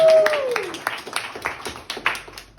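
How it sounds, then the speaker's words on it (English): Sparse applause from a small comedy club audience for the host, a few scattered claps ringing out unevenly after a brief whoop, moderately close and not very dense. "one more round of applause for your host, Nancy."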